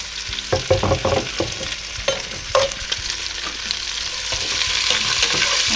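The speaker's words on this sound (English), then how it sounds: "Then you will add the onions and the green chili." Onions and green chili fry in a pot for chicken pulao while a spoon stirs them. Clattering scrapes come close in the first half and give way to a rising, steady sizzle, with no talking.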